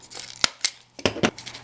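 Scissors make quick, crisp snips through material for a homecoming mum backer, four or five sharp cuts in an irregular rhythm, close and clear with no voices.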